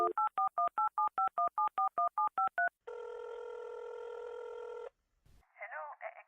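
A telephone number is punched in as about a dozen quick, evenly spaced keypad tones, followed by a steady electronic ringing tone on the line and a faint burst of something at the end in a radio-drama scene.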